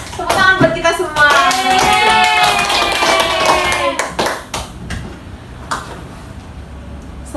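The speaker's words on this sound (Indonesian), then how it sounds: "Tepuk tangan buat kita semua." Classroom applause from students in an Indonesian elementary school lesson: bursts of close clapping mixed with lively young voices, then thinning into scattered claps and chatter.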